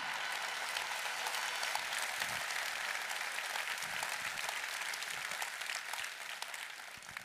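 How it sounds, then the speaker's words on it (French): A political May Day rally crowd applauds, a broad steady clapping from many hands heard from some distance, holding evenly for several seconds before easing slightly at the end. "que je vous demande d'ailleurs d'applaudir"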